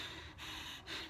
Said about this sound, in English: Okay, so that's shallow breathing.